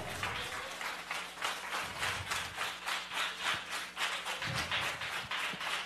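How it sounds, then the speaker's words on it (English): A church congregation in Brooklyn claps along during a live sermon, a steady rhythmic beat of many hands at moderate distance, fairly quiet with faint room murmur and no clear talk. "Clap it up."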